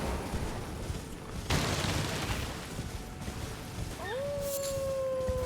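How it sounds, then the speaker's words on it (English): A creature in the video game Elden Ring lets out a rising howl near the end, sliding up into a long sustained cry over a dense, noisy game soundscape with earlier booming impacts. "He's howling."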